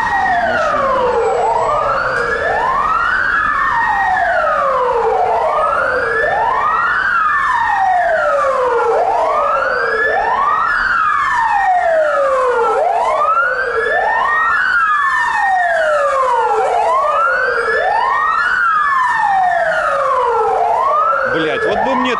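Wailing emergency vehicle sirens at a car-sharing crash scene, a loud continuous rising-and-falling cycle repeating every couple of seconds, with several overlapping sirens sweeping steadily throughout.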